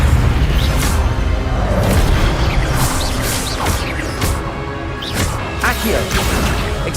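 A Levioso spell is cast in Hogwarts Legacy, giving loud, dense magical whooshes and impact booms with crashing effects over a continuous game soundscape, while a voice calls out the spell.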